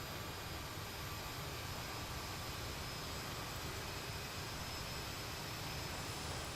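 A CRJ-700 jet taxis on an airport ramp in Microsoft Flight Simulator, giving a constant loud hiss and whine of jet engines without any change in pitch.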